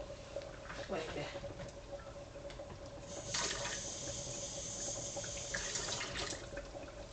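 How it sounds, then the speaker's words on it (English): Water trickles and splashes into a blender jar while making St Lucian green seasoning, a steady pouring hiss lasting a few seconds at moderate distance, with faint background noise. "Just a little bit of water just to help the blender to blend."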